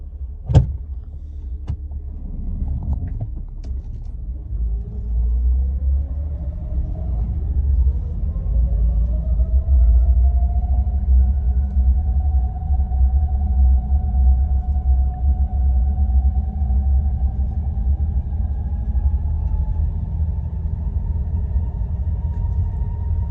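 Jeep fitted with 5.13 gears driving in low range, a steady low rumble whose drivetrain whine climbs smoothly in pitch as it accelerates, heard from inside the vehicle after a few clicks.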